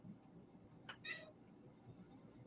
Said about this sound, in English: Oh, so cute little kitty.